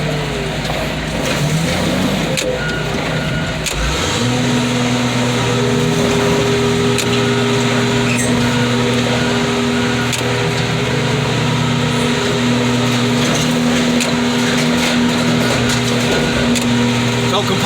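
A crusher machine being worked by hand runs with a steady droning hum that settles into a constant mechanical tone, loud and continuous throughout, with people talking over it.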